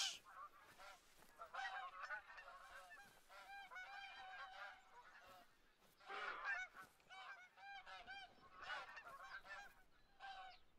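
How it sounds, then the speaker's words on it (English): Geese honk repeatedly in bursts of overlapping nasal calls in the video game theHunter: Call of the Wild, fairly clear and close, with brief pauses between flurries. "Where are the geese?"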